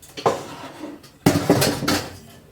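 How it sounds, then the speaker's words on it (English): Dishes, pots and pans clattering in a home kitchen during seafood cooking, two bursts of close, loud clanks and scrapes of metal and crockery with cutlery rattling, alone without talk. "It's always dishes, dishes, dishes, dishes."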